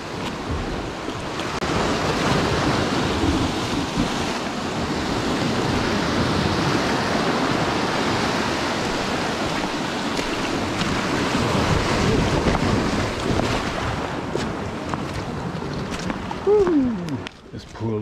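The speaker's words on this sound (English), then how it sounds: "these waves are getting more frequent" Sea waves break and wash along a rocky UK shoreline during a rising tide, a continuous loud surf roar with wind noise on the microphone, and a person speaking faintly over it.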